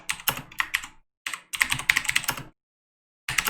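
Keys clatter on a computer keyboard in quick bursts of typing, broken by short pauses and a longer gap near the end before typing resumes; no voices.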